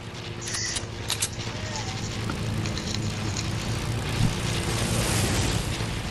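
A helicopter in an online multiplayer shooter hums with a steady, broad engine and rotor drone throughout, with faint distant gunfire and game effects layered over it.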